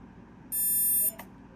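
An RTR Hobby HC-1 1:48 Huey RC helicopter gives a steady electronic beep of about half a second on power-up, then a short faint click, over low room hum.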